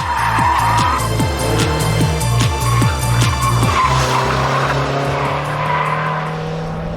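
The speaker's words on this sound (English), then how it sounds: "a glorious adrenaline rush as the tail slides wide" Tyres skid and squeal loudly as a car's tail slides wide under power, engine revving hard with rising and falling pitch, close and alone with no talk.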